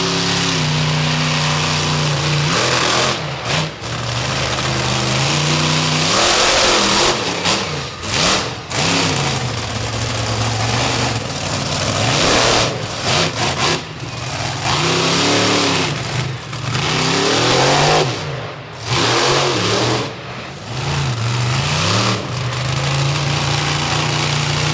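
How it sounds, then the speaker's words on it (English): The Prowler monster truck's engine roars loudly on a dirt arena track at Augusta, Georgia, revving up and down repeatedly with surging accelerations and brief dips throughout. "Kilder, that big cat, the Prowler, roaring onto the track"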